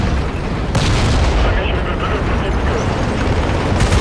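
A heavy machine gun fires continuously at helicopters in the Battlefield Play4Free video game on the Gulf of Oman map, a loud, dense, unbroken roar of gunfire and booms with the blasts blurring together throughout.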